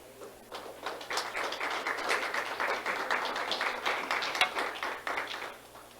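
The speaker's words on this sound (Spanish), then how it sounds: "Denle un aplauso al Señor." A church congregation applauds the Lord during a sermon, irregular claps and taps rising and falling for several seconds at a moderate level before dying down.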